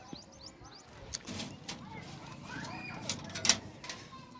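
Pigeons coo faintly inside a loft, soft low calls under background rustling, a few thumps and a brief wing clatter near the end.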